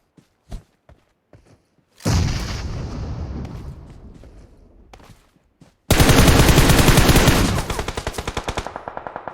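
Bursts of automatic gunfire in PUBG Mobile: isolated sharp shots, then a loud sustained volley that fades, then a second intense rapid burst close by with heavy thumping low end.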